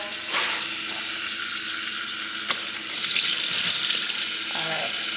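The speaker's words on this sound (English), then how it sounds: "Now the water is coming out a lot more clear" Tap water running into a sink while a freshly tie-dyed shirt is rinsed, a steady hissing splash throughout, close and even, with brief handling sounds near the end.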